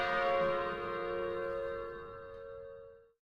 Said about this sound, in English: The bell sounded.